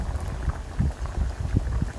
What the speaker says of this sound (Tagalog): Kulo-kuloin lang natin siya.